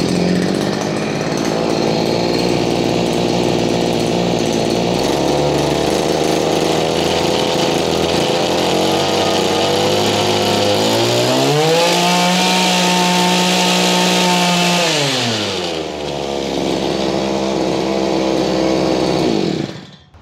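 Small two-stroke earth auger engine mounted on a bicycle revs hard, a loud buzzing chainsaw-like drone that climbs to a higher pitch at full throttle, holds, drops back, then cuts off at the end.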